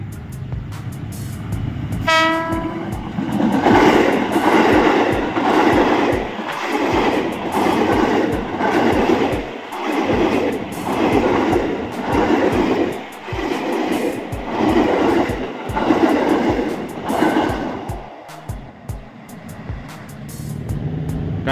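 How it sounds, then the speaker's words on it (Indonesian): A KRL Commuter Line JR205 electric train pulls into Cakung station, opening with a loud horn toot followed by a long, rhythmic clatter of wheels over rail joints as the cars roll past close by. "Komuterland JR205 persiapan masuk di stasiun Cakung."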